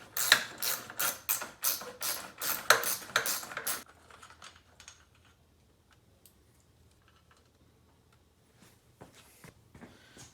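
Ratchet wrench clicking rapidly in quick bursts while loosening 12 mm bolts on the air filter box of a Yamaha PW80 dirt bike, loud for about four seconds, then quieter scattered metallic clicks and taps of handling parts.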